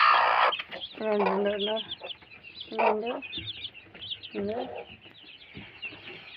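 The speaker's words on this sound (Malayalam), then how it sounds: "കോഴിക്കുട്ടികളാണ്." Several chick calls in bursts: short clucks and higher cheeping notes at uneven intervals, fairly close, with quieter pauses between.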